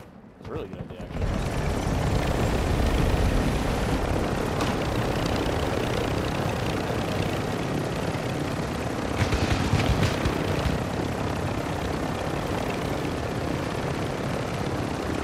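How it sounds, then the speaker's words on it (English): A helicopter in a video game drones continuously, loud and steady, its rotor and engine roar filling the whole stretch with slight swells in intensity. "Okay, grab the helicopter."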